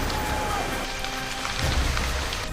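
Monsoon rain falling in the Indian Himalayas, a dense, loud, continuous hiss of heavy rainfall pattering on surfaces close by, steady throughout with no voices.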